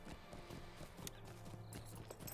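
Horse hooves clip-clop at a steady walking rhythm during a ride in a video game, moderately loud against a low musical or ambient bed, with no talking.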